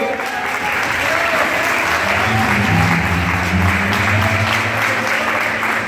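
Loud, steady applause from a large church congregation fills the whole stretch without a break, with a faint hum of voices underneath.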